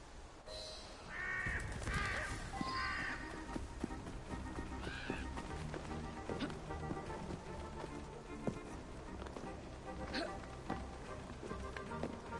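A bird caws a few times in Assassin's Creed Syndicate, set amid dense game ambience with hoofbeats and background music, the calls moderately clear early on before blending into the busy mix.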